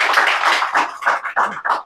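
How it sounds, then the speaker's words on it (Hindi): An audience at an electrician certificate ceremony claps together in a dense burst of applause, close and fairly loud, the clapping swelling in uneven waves with short dips over about two seconds. "चलो ताली बजाते रहो, हर एक के सर्टिफिकेट में ताली बजाओ"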